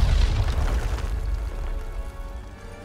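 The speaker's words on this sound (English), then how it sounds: "Oh, there's that grenade." A grenade detonates in a Star Wars action video game, a loud low boom at the start that rumbles and decays over a few seconds with crackling debris, no talk over it.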